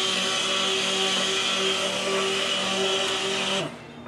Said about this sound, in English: Don't do it in bursts so you don't burn out your stick blender.